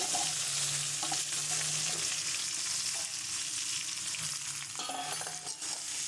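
Star fruit pieces with salt and turmeric sizzle steadily in a hot pan for pickle, with occasional scraping as they are stirred; close and continuous, no talking.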